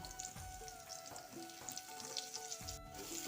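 Onion, dry red chilli and panch phoron sputter in hot oil as a tempering for dal, a faint, steady sizzle with scattered pops under a soft tonal background.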